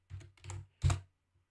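Three short bursts of computer keyboard typing entering a search term in a design app, close and fairly soft, each cluster of keystrokes separated by brief pauses, with no voices.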